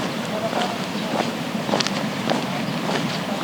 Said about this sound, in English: It's slightly windy today. That's why we have some waves.